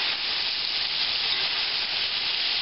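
Pork chops sizzle steadily in a hot pan just after being flipped, a loud, continuous frying hiss with no break or talk.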